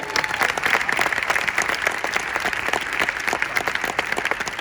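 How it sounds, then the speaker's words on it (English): Audience applauding the performers and live band of Cirque du Soleil's Drawn to Life, a sustained, lively burst of clapping from a large crowd with no pause. "A big round of applause to all the artists,"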